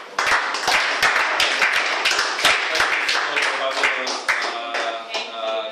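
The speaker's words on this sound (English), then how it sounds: "another round of applause" Students give a round of applause in a room, with sharp, distinct claps from a smallish group, fairly close, rising briefly and then thinning out, with some voices mixed in.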